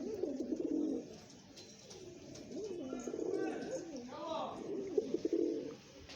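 Domestic pigeons cooing in repeated soft, throaty phrases close by, with someone talking in between.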